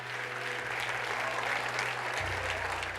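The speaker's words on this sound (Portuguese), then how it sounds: "Vamos aplaudir o Senhor, porque Ele é tremendo" A church congregation applauds during a sermon, a continuous dense patter of clapping at moderate level with a steady low drone beneath it.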